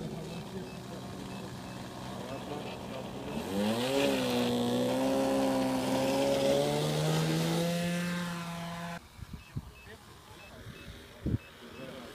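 A car engine revs up under throttle during a driving lesson, its pitch climbing and holding in a sustained whine before cutting back to a quiet idle with a few knocks, as people talk in the cabin.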